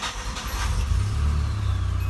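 A car engine cranking and catching, then settling into a deep, steady rumble at close range, loud and continuous with no talking.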